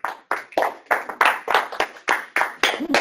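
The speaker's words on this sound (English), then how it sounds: "A round of applause." Applause at an accessibility meeting, sounding as a sparse, rhythmic series of separate claps, loud and close, in an irregular beat for a few seconds.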